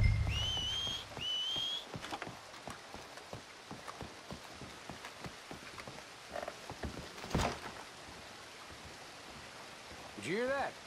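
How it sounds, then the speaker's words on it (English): A character whistles two short rising notes in Red Dead Redemption 2 over steady rain ambience, followed by scattered footsteps and rustling, faint voices, and a warbling call near the end. "Make a noise, whistle or something."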